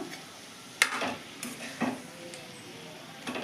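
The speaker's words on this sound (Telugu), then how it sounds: "కొద్దిగా కరివేపాకు కూడా వేస్తున్నానండి." Curry leaves dropped into a hot pan with tamarind while cooking a Telugu amaranth-leaf stone-ground chutney, giving a sudden sizzle burst and then stirring clatter and scraping, close and moderately loud.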